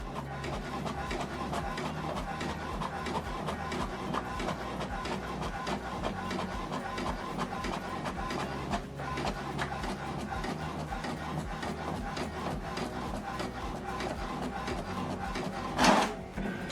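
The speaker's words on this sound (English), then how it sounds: "So this is how to copy a document from this printer." An HP Deskjet 4220e printer copies a document, giving a steady low mechanical whir with soft rubbing and feeding sounds for a long stretch, then a brief louder clack near the end.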